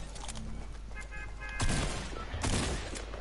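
Scattered gunfire crackles on a custom video game map, two louder bursts standing out over a busy, moderately quiet background of game noise.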